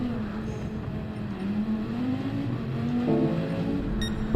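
Race car engine in Gran Turismo 7, a GT3 car at Yas Marina, droning steadily at the start of a race, its pitch rising and falling with revs and swelling louder near the end, with no talk.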